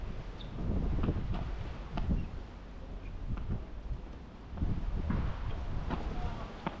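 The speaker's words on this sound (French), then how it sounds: "Ouais, le vent." Wind blowing across an outdoor padel court, a steady broadband rush with stronger gusts swelling through the clip, with faint scattered knocks and voices in the background.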